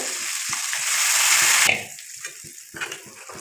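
Chicken curry frying in a pot as water goes in and it is stirred, a loud rising hiss that cuts off sharply, followed by quieter sizzling and scattered spoon knocks against the pot.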